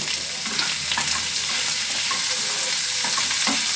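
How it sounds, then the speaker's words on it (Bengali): Boiled potatoes with salt, turmeric and green chilies fry in a pan for aloo methi, a loud, continuous sizzle with repeated spatula scrapes and stirring knocks throughout. "হলুদ দিয়ে ভালো করে ভেজে নেব"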